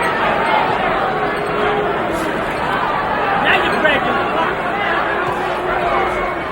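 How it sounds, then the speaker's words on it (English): A large boxing arena crowd murmurs and chatters in a continuous, dense hubbub, with a commentator's voice speaking over it. "Crowd getting a little tired of that."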